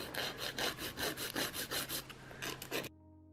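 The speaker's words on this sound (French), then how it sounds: "Donc je vais bien limer sur les côtés." A nail file rasps back and forth along the sides of a fingernail in quick, even strokes, close and quiet, about a dozen passes before stopping abruptly.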